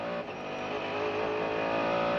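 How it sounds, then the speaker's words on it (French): Onboard sound of a Mercedes race car accelerating at Le Mans: a loud, steady, rising engine drone with strong harmonic whine that fills the whole stretch, with no talk. "il va accélérer le plus tôt possible justement pour bénéficier de"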